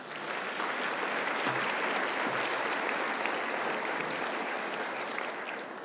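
An audience at the Pioneers & Purpose 2014 event applauds, a dense, continuous roar of many hands clapping at even strength for several seconds with no voices standing out.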